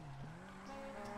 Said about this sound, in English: Ooh, that drift.